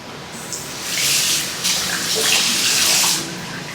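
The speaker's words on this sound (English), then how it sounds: "you're going to take your washcloth and you're going to put this under running warm water" Warm water runs from a tap over a washcloth, a steady hiss and splash that grows louder when the cloth is pushed under the stream, with no talk.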